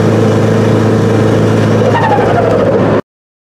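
A loud, tuned car engine drones steadily at lower RPM under high boost and heavy load, its whine climbing slightly before the sound cuts off abruptly.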